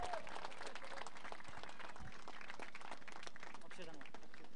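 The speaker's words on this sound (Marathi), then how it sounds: "जोरदार टाळ्या" An audience applauds at a local cricket team announcement event, a dense, continuous clapping that mixes with crowd noise while someone talks over it through a loudspeaker.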